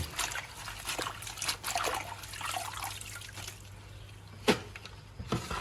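Water trickles and splashes as vegetables are rinsed under a running tap for a curry of coconut palm shoots and wild greens, a gentle steady flow with a few sharper splashes near the end.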